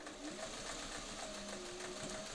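Singer 400 series sewing machine stitching slowly at a short, fine stitch length, a soft steady mechanical whir with faint rapid needle ticks and a low motor hum, quiet throughout.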